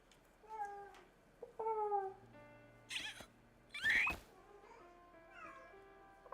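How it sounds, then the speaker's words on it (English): A cat in a video game meows several times in a steady sequence of clear, tonal calls, with soft game ambience underneath and no one talking. "There's a kitty in the back there."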